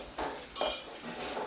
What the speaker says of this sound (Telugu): కరివేపాకు కూడా వేసుకున్నాక ఒకసారి ఫ్రై చేసుకోవాలి